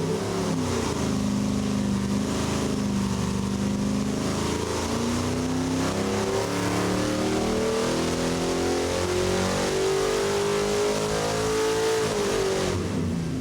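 A small block Ford engine revs hard and steadily during a dyno test run, its pitch climbing smoothly for over ten seconds as the throttle holds open, loud and close, then dropping off sharply at the end.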